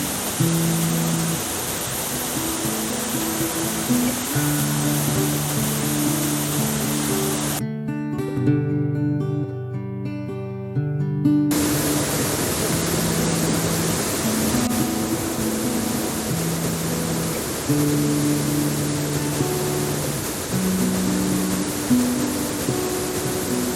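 Water of the Sudun river rushes in a steady broadband roar under background music. The flow drops out for a few seconds midway, then returns, constant and fairly loud.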